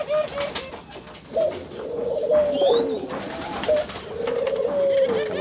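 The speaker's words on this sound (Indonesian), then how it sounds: "Nah, ada juga puter belung. Ini juga puter belung." Turtle doves cooing in breeding cages within a small aviary of over a hundred birds, with repeated soft rolling coos rising and falling, close by, plus faint chirps behind.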